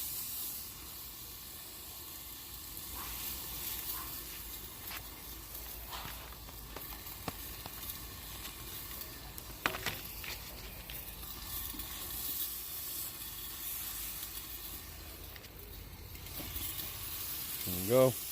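Buttered rolls sizzling on a Blackstone 28-inch griddle, a steady close hiss and crackle running throughout, with a few brief scrapes and a person talking over it at times.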